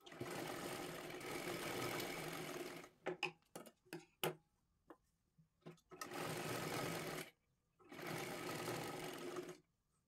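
A sewing machine runs in three long, steady bursts while stitching a blouse seam. Between the runs come several short, sharp ticks and clicks, and there is no talk.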